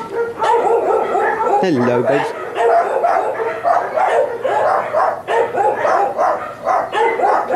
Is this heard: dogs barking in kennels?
yes